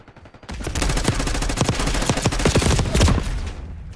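Rapid, continuous gunfire in the Black Ops 6 video game, dense overlapping shots and bursts firing loudly for several seconds after a brief quiet start, with no talk.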